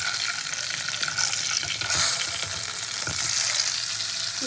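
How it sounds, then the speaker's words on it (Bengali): Tangra fish sizzling and frying in hot oil in a home kitchen, a continuous close crackle with occasional pops and stirring, no voices. "ট্যাংরা মাছ একটু নরম মাছ, সেগুলো একটু উল্টে পাল্টে খুব ভালো করে ভেজে নিতে হবে।"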